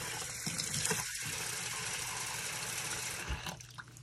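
Water pours from a tap into a dog's food bowl, a short steady gushing stream close by, fading out toward the end with no talking.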